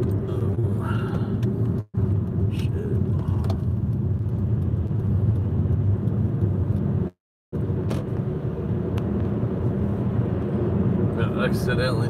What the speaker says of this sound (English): And we're spinning tires.